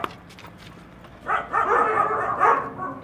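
Dogs barking to defend a house in war-damaged Mosul, Iraq, a burst of loud, close, overlapping barks and yelps in the second half after quieter faint sounds.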